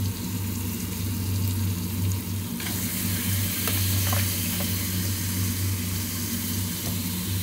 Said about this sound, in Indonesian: ini sekarang kita tuang semua daging yang tadi ya, kita tumis setengah matang